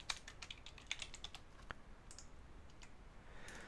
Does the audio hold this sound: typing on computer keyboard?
yes